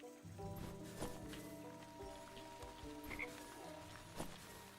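A frog croaks in the video game Wytchwood, repeating rough, rhythmic croaks over a soft rain-like background, steady and fairly quiet.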